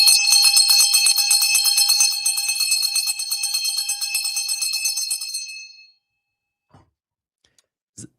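A bell rung at the stock market close gives a loud, continuous metallic ringing for about six seconds, then cuts off, followed by a couple of faint soft taps.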